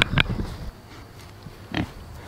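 Pigs on a family homestead give short grunting oinks and snuffles up close, two bursts separated by quieter rustling.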